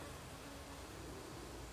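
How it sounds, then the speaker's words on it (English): Honeybees buzz as a faint, steady, dense hum across a brief moment while a hive frame loaded with bees is held during an inspection to check whether the queen has been released. "There's a frame right here. It's pretty loaded up with bees."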